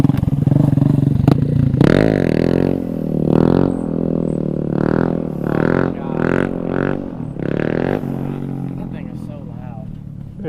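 A mini bike with a loud aftermarket exhaust revs up and down repeatedly nearby, rising and falling in pitch over several bursts, with people talking over it.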